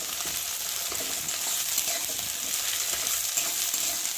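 Onions frying in hot oil in an outdoor picnic cooking setup, a loud, dense, unbroken sizzle with light stirring scrapes running through it.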